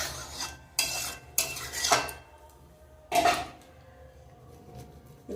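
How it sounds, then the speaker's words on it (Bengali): A spatula stirs fried prawns into jackfruit curry in a pan, giving several short scraping and clinking bursts against the metal with quiet pauses between them. "চিংড়িগুলো নেড়ে নেব।"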